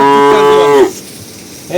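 A dairy cow gives one loud, close, drawn-out moo that slides down at the end, followed by quiet, with the start of another call at the very end.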